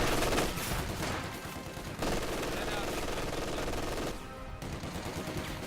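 Enemy machine gun firing in a video game battle: sustained rapid automatic bursts, loud and close, with brief gaps between strings of fire and a voice faintly underneath.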